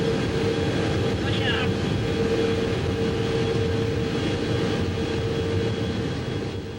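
A Boeing KC-135 Stratotanker, an airframe dating from 1955, beginning its journey with crew and cargo aboard, a loud steady jet engine roar with a sustained whine, continuous throughout.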